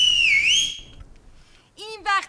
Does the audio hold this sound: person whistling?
yes